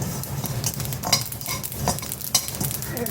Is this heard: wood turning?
no